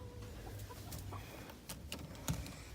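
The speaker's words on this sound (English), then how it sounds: "There's a broody hen." A broody hen sitting on a hay-lined nest gives soft, low clucks close by amid breezy outdoor background noise, with no talk.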